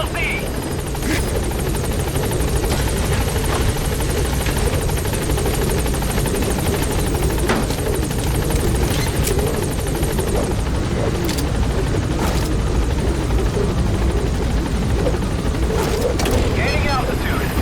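The Pequod, a helicopter in the video game Metal Gear Solid 5, hovering at a landing zone, its loud, steady rotor roar filling the whole scene as voices call out over it.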